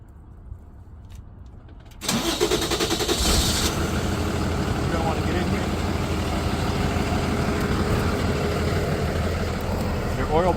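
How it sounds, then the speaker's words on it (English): A truck's engine cranks and catches, then settles into a loud, steady rumbling idle close by, with a brief rattle as it starts. "Go ahead and start your truck."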